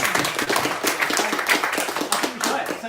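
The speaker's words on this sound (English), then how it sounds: "Can we have a round of applause for the amazing" Audience applause at a live UK national championship event, a dense, steady wash of clapping lasting the full stretch with scattered voices mixed in.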